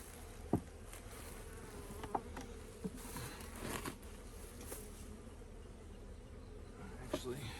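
Honeybees buzz around an open hive during colony work, a soft continuous drone with occasional faint clicks and taps of handling nearby.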